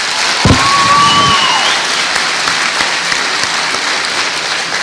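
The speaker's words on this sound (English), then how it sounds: "let's give one more round of applause to the class of 2021" Sustained applause from a graduation ceremony audience for the Delta High School class of 2021, a dense steady wash of many hands clapping throughout, with a brief tonal whistle-like sound near the start.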